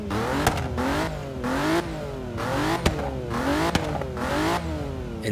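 A turbocharged 1.2-litre Tamo Racemo accelerating hard in the Forza Horizon 3 racing game, its engine repeatedly climbing in pitch through about five quick gear shifts, loud and close with brief pops between changes.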